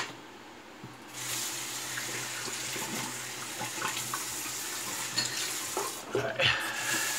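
Tap water runs steadily into a sink to warm an aluminum safety razor blade, a close continuous splashing hiss with a few louder gurgles toward the end.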